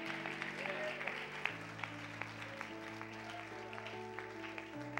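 A church congregation claps steadily and fairly loudly at a service, with sustained organ or keyboard chords running underneath the applause.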